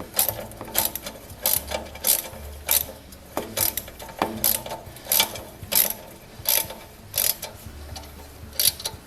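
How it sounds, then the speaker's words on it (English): Ratchet with a socket tightening a nut on an MTD woodchipper shredder, giving a close, regular series of sharp clicking strokes, roughly two per second, with no voices. "I'm going to take this socket and use it to tighten up"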